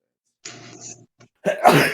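A single sneeze bursts out loud and close after a stretch of quiet speech, a short forceful expulsion ending the moment.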